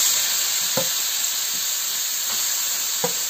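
Carrots for gajar ka halwa hit hot ghee in a pan, giving a loud, steady, close sizzle and hiss throughout, with a few faint clinks and no talking.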